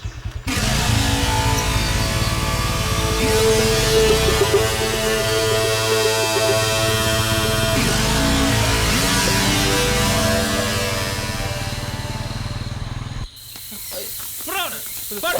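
A vehicle engine starts and pulls away in a Tamil film scene, a loud, dense roar that runs almost unbroken for about thirteen seconds, mixed with other soundtrack sound, before dropping off suddenly.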